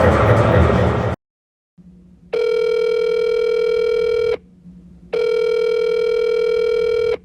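A telephone call rings out on the line before reaching voicemail. A short burst of noise cuts to silence, then two long, loud, steady electronic ringback tones follow with a gap between them, close and clear.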